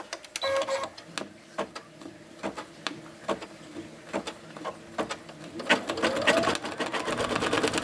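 An embroidery machine stitches a tack-down stitch on a coaster, a steady run of sharp mechanical ticks and clacks that quickens into a dense, fast burst near the end.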